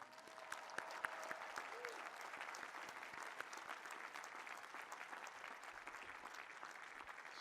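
Audience at a university engineering graduation ceremony applauding graduates' parents and families, a dense, steady wash of clapping from a large crowd that holds for several seconds at a distance.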